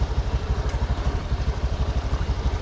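An Activa scooter engine running steadily nearby, a low, evenly pulsing putter with a faint mechanical clatter and no other sounds over it.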